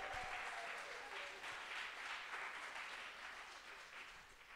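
A church congregation cheers and applauds the Lord during a worship service, a steady, fairly distant wash of clapping and voices that holds evenly throughout.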